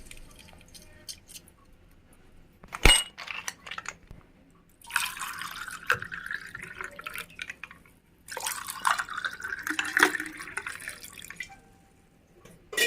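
Juice drips and trickles as a lemon is squeezed into homemade sugarcane juice over ice. Two bursts of liquid splashing are separated by quiet moments and an isolated sharp knock.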